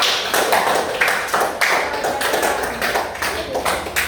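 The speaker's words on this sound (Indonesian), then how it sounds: "Tepuk tangan buat kelompok 1" A classroom group claps for a team of students, with scattered uneven hand claps and taps in a steady patter for about four seconds, fairly close and moderately loud.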